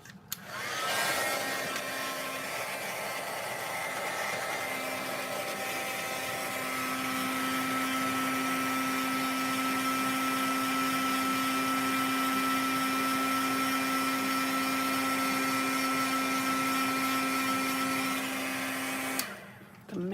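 A heat gun melts embossing powder on a papercraft card, giving a steady, close whirring blow with a faint tonal hum that runs for about eighteen seconds before it switches off.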